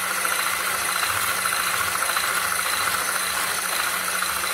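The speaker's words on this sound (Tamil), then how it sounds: "ஆட் பண்ணிவிட்டு இதை நல்லா ஃப்ளஃபி ஆகிற வரைக்கும் பீட் பண்ணலாம்" An electric hand mixer beats softened butter for a pumpkin cake until fluffy, giving a steady, loud motor whir with a faint rattle that runs unbroken throughout, with no talking.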